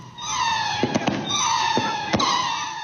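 A row of firecrackers goes off in the middle of a street at night, sharp cracks and pops bursting irregularly over a steady hiss and crackle, fairly close.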